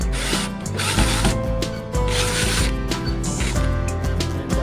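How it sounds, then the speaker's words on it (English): A power drill drives a screw into a loose door lock handle, giving repeated mechanical whirring bursts with ratcheting clicks, loud and close, with no talking. "I'm going to use the drill"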